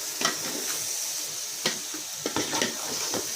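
Mutton trotters and spices fry in a pan with a soft steady sizzle, broken by a few sharp scrapes and knocks of a spoon as the mixture is stirred.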